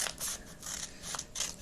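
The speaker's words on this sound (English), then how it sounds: "I'm going to cut 3 lines across." Scissors cut through folded paper for a snowflake, making several quick, crisp snipping strokes in a row. The sound is close and clear, with no talking.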